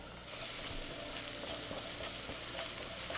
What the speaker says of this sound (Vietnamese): Cho nửa muỗng canh hành tỏi băm vào, phi lên cho thơm.